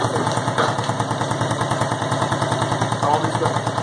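A Union Star 2018 70cc motorcycle engine idles with a steady, close, rapid thumping pulse.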